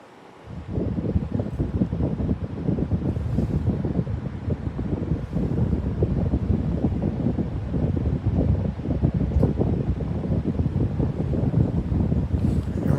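A vintage 1981-82 Sears oscillating desk fan runs steadily after a quiet start, producing a constant broadband whoosh of moving air with a soft motor hum, close to the microphone.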